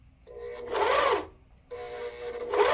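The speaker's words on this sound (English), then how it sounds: "I'm just gonna sew off the edge" A Lumina Dahlia coverstitch sewing machine runs in two close, loud bursts of rapid stitching, separated by a short pause.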